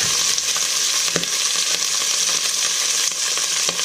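Pieces of pork browning in a little neutral vegetable oil for Vietnamese caramel pork, a loud steady sizzle and crackle with occasional stirring clinks, close up and continuous.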